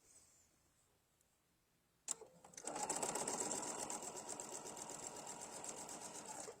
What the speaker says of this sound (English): So I'm sewing on this side.